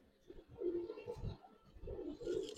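Giribaz pigeons coo softly in low, rolling phrases, two or three murmured calls in a row, faint and close amid light background noise.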